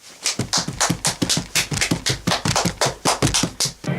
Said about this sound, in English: Clap and stamp your feet.